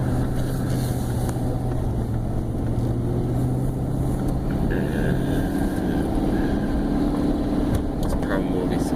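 A 2004–2009 Ford F-150 engine idling unevenly after a tune-up, its steady hum sagging and then climbing again about halfway through, while someone talks over the running motor.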